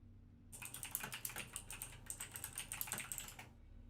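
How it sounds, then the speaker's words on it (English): Rapid clattering keystrokes on a loud computer keyboard, a dense burst of typing that starts abruptly, runs for about three seconds with a short pause midway, then stops, close and alone with no talking. "Sorry if my keyboard was loud."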